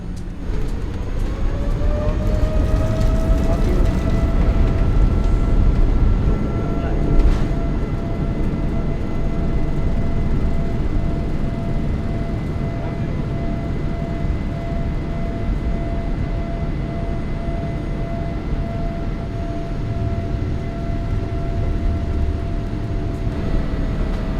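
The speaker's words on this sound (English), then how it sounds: "And here's the takeoff from a different perspective." Airliner takeoff heard from inside the cabin: a loud, continuous engine roar and rumble holding steady over about twenty-four seconds, with a sustained rising whine, no talk.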